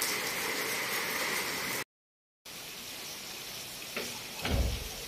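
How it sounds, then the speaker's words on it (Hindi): Steady rain falls on a village in Punjab on a summer morning, a dense even hiss throughout, broken by a brief dropout and a couple of closer splashy knocks near the end. "बारिश बहुत हो रही है"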